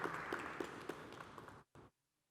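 An audience at a digital summit conference applauds a speaker, a faint, distant wash of steady clapping that cuts off abruptly after about a second and a half.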